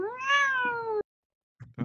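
A single drawn-out cat meow, close and clear, rises and then falls before cutting off sharply. Silence follows, then a couple of short, faint bursts of sound.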